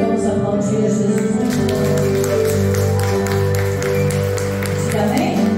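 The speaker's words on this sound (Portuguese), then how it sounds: "vamos aplaudir a Jesus" Congregation applauding Jesus during a Portuguese-language church service, steady loud clapping from a crowd sustained throughout over music and a continuous backing drone.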